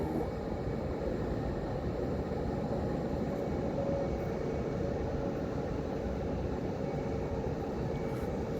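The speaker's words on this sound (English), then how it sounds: "Got another plane coming in for a landing right over there." An airplane descends toward a landing near Orlando, a faint, steady low rumble that holds evenly throughout with no distinct peaks and no voices.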